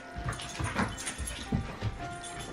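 A dog makes soft, high whimpers and little yips several times over ongoing household background noise, with no talking.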